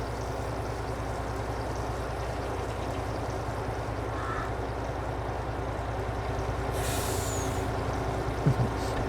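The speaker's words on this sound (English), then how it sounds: "This is the style of trucks we have in the UK" Steady idling diesel rumble of a UK-style cab-over truck in Farming Simulator 22, with a brief air-brake hiss near the end and faint distant background noise throughout.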